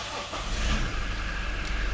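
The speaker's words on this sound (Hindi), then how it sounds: "ये डीजल इंजन का स्टार्टअप था।" A 2023 Toyota Fortuner Legender diesel engine starting up, close and fairly loud, a brief crank rising into a steady low idle rumble.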